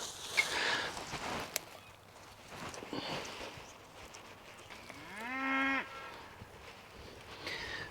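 Dexter cattle on a farm give a single drawn-out moo, moderately near, with faint outdoor background noise before and after.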